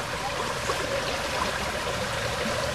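Stream water flowing steadily out of a culvert at a muddy construction site, a continuous close broadband rush with no talk.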